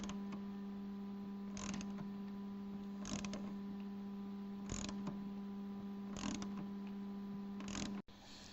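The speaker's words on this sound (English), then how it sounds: "now that I got that tightened up, just flip the ratchet in reverse and take out your nutsert tool" A ratchet turns a nutsert tool while tightening it into a Jeep JL rear fender, giving faint, evenly spaced clicking strokes about every second and a half over a steady low hum, ending with a sharp knock.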